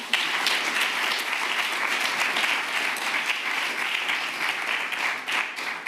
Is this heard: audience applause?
yes